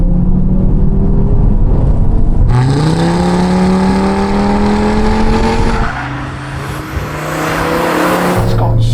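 Audi RS3 five-cylinder engine revving loud and close, pitch climbing under acceleration with a raspy, throaty tone, briefly easing off before pulling again.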